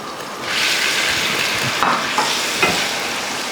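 Peeled chopped tomatoes hit hot frying masala for a kofta curry, setting off a loud steady sizzle with a few scraping stirs of a spoon in the pan, close up.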